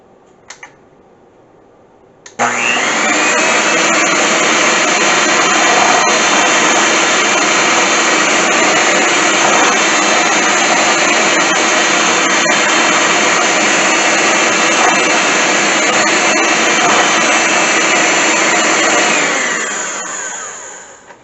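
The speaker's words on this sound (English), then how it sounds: "We'll give this a slight whisk." Eggnog with spiced rum is whisked by a loud motorized mixer that starts abruptly after a quiet moment, then holds a steady, close, whining drone for nearly twenty seconds before winding down.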